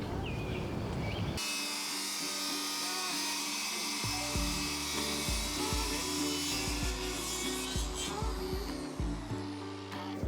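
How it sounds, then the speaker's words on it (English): A circular saw cuts wood for a canvas frame, its high whine running loudly and steadily through the clip with repeated dips in pitch as the blade bites, after a brief softer start. "So I am absolutely covered in sawdust, but we're done with the circular saw."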